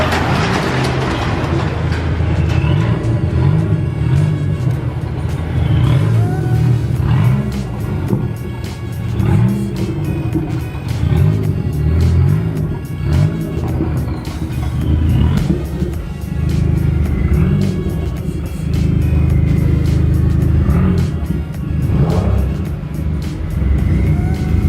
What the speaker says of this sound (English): we're gonna go take the tractor out for a pull on the floor